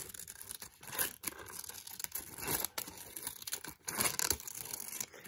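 Small scissors snip through a paper cupcake case for a craft project, giving a quiet, close series of crisp cuts and rustling crinkles in uneven bursts.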